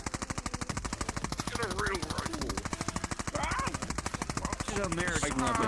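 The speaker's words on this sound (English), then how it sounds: "Kill it with the bullpup rifle." Rapid automatic fire from a bullpup rifle in a video game, a steady fast rhythm of shots running throughout, with a person talking over the gunfire.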